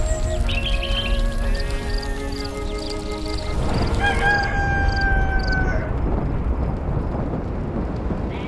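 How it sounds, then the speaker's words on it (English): A rooster crows in the video game Black & White 2, drawn-out rising calls over a heavy, rumbling, thunder-like backdrop with no speech. "This rooster wakes me up every single day."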